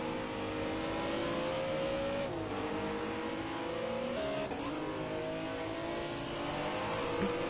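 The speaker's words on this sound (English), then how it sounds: "now in these very powerful BMW M1 Pro cars, fighting his way back through the grid" BMW M1 Procar race cars roar around Sonoma Raceway, engines holding a loud, steady howl that shifts pitch through gear changes and passing cars, with no voices over the racing.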